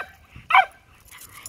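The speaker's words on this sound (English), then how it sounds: "You barking at that poor bunny?" A Rat Terrier barks at a rabbit in a single short, sharp yap, loud and close, followed by a quieter whine-like trailing sound and no talking.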